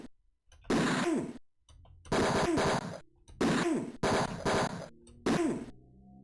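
Thugs fire guns in the video game Tex Murphy: Mean Streets, heard as five bursts of loud rapid gunfire, each roughly half a second to a second long, separated by brief silences.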